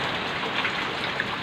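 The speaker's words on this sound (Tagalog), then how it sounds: "Grabe, ang lakas ng ulan." Heavy rain pours down steadily, a dense, continuous hiss of drops drumming on surfaces close by, with no voices.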